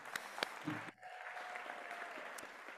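A steady wash of audience applause for a speaker rises after a few sharp claps and holds evenly at moderate loudness to the end, with no voices over it.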